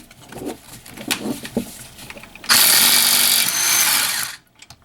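An Ingersoll Rand W5330 cordless right-angle impact wrench, fitted with a 12mm socket on a universal joint, removes a brake caliper bolt. Faint handling clicks come first, then a loud, close, rattling hammer burst of nearly two seconds that stops abruptly.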